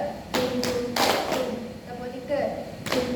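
A class of students claps together in sharp, loud group bursts with uneven gaps, a few overlapping claps between them, while voices talk underneath.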